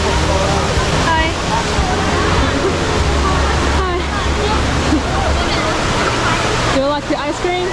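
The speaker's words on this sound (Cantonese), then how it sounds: "仲有一個40米嘅瀑布啦" A 40-metre indoor waterfall at Singapore's airport sends a constant roar of rushing water, with crowd babble and nearby voices talking over it the whole time.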